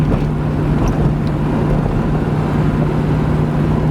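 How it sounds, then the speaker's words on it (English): A 1972 Corvette with a 454 big block, 4-speed and 4-barrel carburetor drones loudly and steadily as it accelerates, a constant close engine roar with some wind noise and no talking. "You can hear the 4-barrel kick in."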